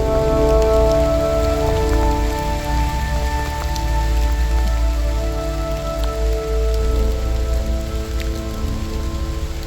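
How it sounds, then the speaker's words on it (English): Steady rain falls on the ground during an autumn walk in Canada. The hiss is dense and continuous, with a low background drone under it, and no voices are heard. "We walked through the rain, feeling the earth soft beneath our feet."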